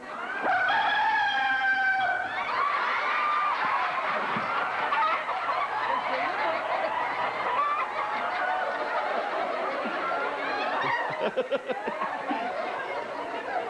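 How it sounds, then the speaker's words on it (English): Chickens cluck and a rooster crows repeatedly on a television show staging a mock chicken wedding, the birds loud and busy throughout with audience chuckles mixed in. "Will you have this chicken-hearted Pauline for your wedded hen?"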